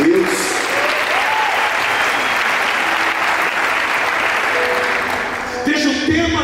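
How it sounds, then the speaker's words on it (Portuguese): Congregation at a Catholic youth congress bursts into a full round of clapping, steady and loud from many hands, with a brief voice at the start and people beginning to speak again as the applause fades at the end. "Uma salva de palmas à palavra de Deus."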